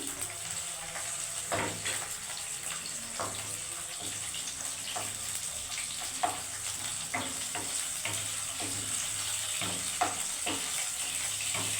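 Tomato pieces lightly frying in a pan for a Bengali fish curry, with a soft steady sizzle and repeated scraping stirs of a spatula at irregular intervals, close and moderately loud.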